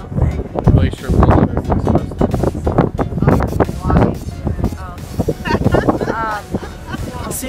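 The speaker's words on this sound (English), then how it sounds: "Sorry if it's a little bit windy. It's really windy around here." Strong wind roars and buffets the microphone throughout at a glacier pool hike in Alaska, with a person talking continuously over the gusting noise.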